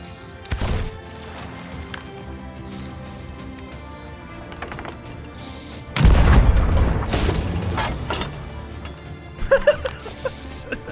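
Deep booming cannon blasts in the video game Sea of Thieves, one early and a heavier burst midway, followed by scattered thuds and crackle, loud and close over a steady game soundtrack.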